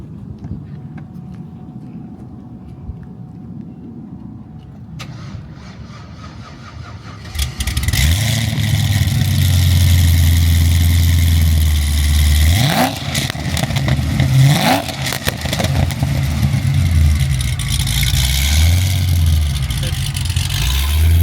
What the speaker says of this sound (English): You can hear the exhaust, which we'll do that real quick.